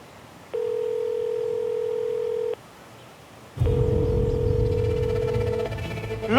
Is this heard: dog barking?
no